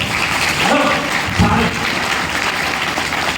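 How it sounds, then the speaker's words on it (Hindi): A seated audience in a hall in Gurgaon, Haryana claps with both hands, a dense continuous wash of applause with no break and no speech. "सारे लोग एक बार अपने दोनों हाथ से जबरदस्त क्लैपिंग करो"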